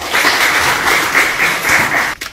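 An audience claps for a poet introduced at a Mehmed Âkif poetry evening, a fairly close, steady patter of hands with slight surges that stops abruptly near the end.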